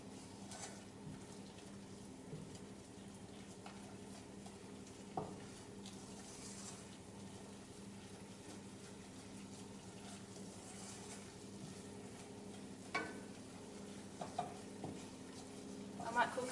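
A flour and butter roux cooks quietly in a pan, a faint, soft sizzle with occasional scraping stirs and light knocks, a voice speaking over it.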